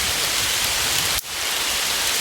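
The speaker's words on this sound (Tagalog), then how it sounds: "Lakas pang ulan" Heavy rain pours down in a dense, steady hiss, broken only by a split-second dip before it resumes just as strongly.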